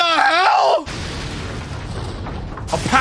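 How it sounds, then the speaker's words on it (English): A deep, rumbling blast from an anime scene rolls out for about two seconds after a shouted voice, then fades as another voice cuts back in. "That was a very convenient explosion that led right to a ship."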